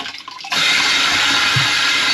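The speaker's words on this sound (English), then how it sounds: "Let's go and turn the water on. So we'll just wait for it to fill up and shut off" Water suddenly rushes into a toilet cistern as the supply is turned on to refill the tank during new plumbing work in a barn conversion, a loud steady flow that stays constant to the end.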